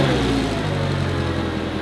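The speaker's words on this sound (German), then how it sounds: "Kann nicht sein, gib mal Gas." A Mercedes E63 AMG V8 engine with its middle muffler deleted roars close by, a steady throaty drone with no pauses.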